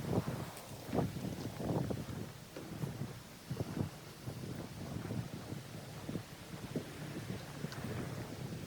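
Wind blowing outdoors across a house deck in autumn, heard as a steady rushing buffet against the microphone with low gusty rumbles and uneven thumps throughout, no talking.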